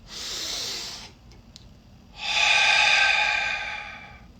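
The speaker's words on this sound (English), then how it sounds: "take a deep breath through your nose" A person breathes out audibly, then after a pause takes a long, deep breath in through the nose, a close, steady airy rush that swells and slowly fades.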